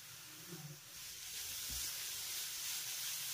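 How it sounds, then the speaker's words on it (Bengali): Grated coconut filling for a winter pitha is stirred in a pan over a low-medium gas flame, giving a quiet, continuous sizzle with a brief scrape of the spoon partway through. "1 মিনিট বাদে গ্যাসের ফ্লেমটাকে লো মিডিয়ামে রেখে আবারও এইভাবে অনবরত নেড়েচেড়ে আমি নারকেলের পুরটাকে তৈরি করে নেব।"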